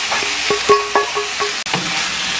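Fried fish is stirred into red spinach in a hot pan, with a soft, steady sizzle and a series of rhythmic spatula scrapes and knocks close by.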